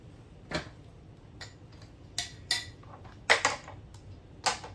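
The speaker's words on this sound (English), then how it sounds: "let's go ahead and chop up our cabbage" A knife chopping through cabbage on a board, giving about seven sharp, irregular cuts that land as distinct clacks, fairly close and moderately quiet, with no speech.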